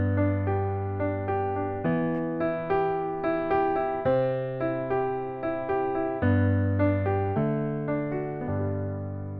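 A piano plays a flowing arpeggio pattern, repeated rolling note groups over sustained low bass notes, clear and close with no talking.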